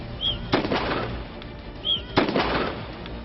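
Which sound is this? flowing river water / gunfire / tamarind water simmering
gunfire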